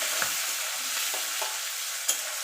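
Chickpeas frying in hot oil while being stirred, a dense close sizzle with a few soft scrapes and a light clink, no voices.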